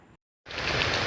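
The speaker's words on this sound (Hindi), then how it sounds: "দুদিন ধরে বৃষ্টি পড়ছে" Steady rain pours down during a multi-day downpour in West Bengal, a dense, loud hiss that starts abruptly after a brief silent gap and continues evenly with no voices.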